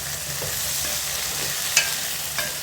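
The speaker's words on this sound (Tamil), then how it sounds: "வெண்டைக்காயும் சேர்த்து நல்லா வதக்கி விட்டுக்கலாம்" Okra sautéed in a pan with other ingredients, a close, continuous sizzle with stirring scrapes and a couple of sharp spatula clicks.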